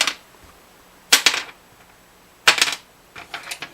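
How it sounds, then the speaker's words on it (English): Sharp, bright clicky taps on a bone guitar nut or saddle blank come in short clusters of a few quick hits, separated by brief pauses, close and fairly crisp. "That's what a bone blank sounds like."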